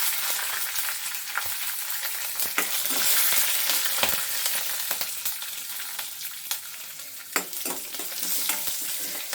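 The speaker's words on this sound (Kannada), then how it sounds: "ಕರಿಬೇವು, ಬೆಳ್ಳುಳ್ಳಿ, ಹಸಿಮೆಣಸಿನ್ಕಾಯಿ," Curry leaves, garlic and green chillies frying in a pan for jeera pepper chitranna make a loud, dense crackling sizzle, with stirring scrapes and scattered pops throughout and no voices.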